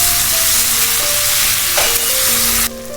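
Chili chicken tossed with soy, chili and tomato sauces in a hot pan, giving a loud, steady, close sizzle with stirring, which drops a little near the end.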